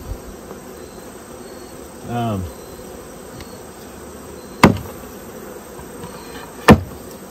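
Honeybees buzzing around an opened hive while a queen is returned during swarm-trap queen replacement, a steady insect hum with a brief louder buzz passing close, and two sharp knocks or taps from hive work.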